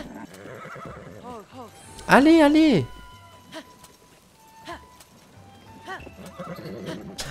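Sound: horse neighing and hooves in video game Zelda Tears of the Kingdom

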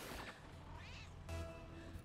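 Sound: cat meowing

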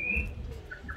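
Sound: tui bird call played by a museum button

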